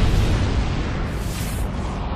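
A huge supernova explosion is rendered as a deep, sustained rumbling boom that fills the low end and stays loud and dense throughout, with a faint airy hiss rising through the middle.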